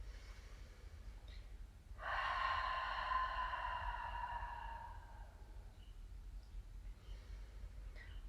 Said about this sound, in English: Taking a breath to prepare,